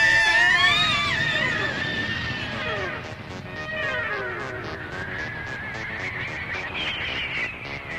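Animated cartoon characters scream together during a crash landing, several loud, shrill wavering voices overlapping and sliding in pitch for several seconds, close and continuous.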